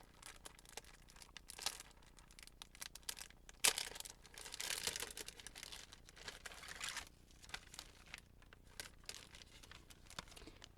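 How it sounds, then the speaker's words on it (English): Stickers being peeled off their backing sheet while decorating an altered book, giving soft crinkly paper tearing and crackling in short bursts, fairly close and quiet, with no talking. "I'm going to pull these stickers out so I have them"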